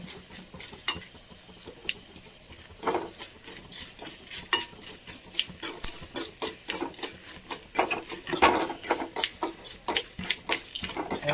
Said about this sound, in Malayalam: ഒരു നുള്ളു ഉലുവാപ്പൊടിയും കൂടി ചേർക്കണം വറ്റമുളക് ഒന്നുകൂടി ഒന്ന് മൂത്തട്ടെ